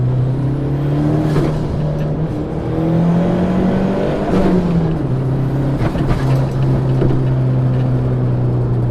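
A turbocharged Ford Mustang SVO engine is loud and close as it revs and builds boost. Its steady drone rises and dips in pitch across the clip, and no one speaks.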